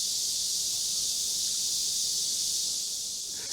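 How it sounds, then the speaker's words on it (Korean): A dense chorus of many cicadas singing together outdoors, a loud, continuous high-pitched buzzing drone that holds steady throughout. "이게 한 마리가 노래하는 것이 아니고 굉장히 많은 수의 매미가 지금 노래하고 있어요."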